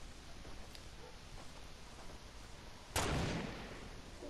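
A single gunshot from Fortnite gameplay, loud and close against a quiet, steady background hum, with a short ringing decay after it.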